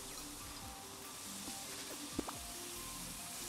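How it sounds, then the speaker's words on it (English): Faint sizzling hiss from a spill in the sci-fi video game Diaries of a Spaceport Janitor, a steady low crackle running under quiet game ambience with a couple of soft tonal blips. "Spill, it's sizzling."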